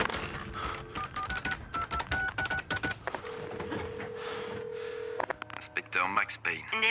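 A telephone in a Max Payne game cutscene is dialed, a quick string of tonal keypad beeps followed by a long steady tone and then warbling ring pulses, with speech over parts of it.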